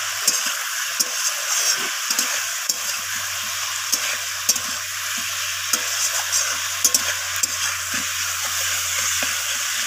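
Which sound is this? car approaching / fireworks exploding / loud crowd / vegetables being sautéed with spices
vegetables being sautéed with spices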